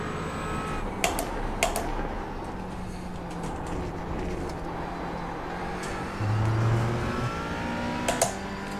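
GT4 race car in iRacing at Oulton Park, a steady engine drone with sharp clicks from gear shifts, a brief swell partway through, and a few more gearshift clicks near the end.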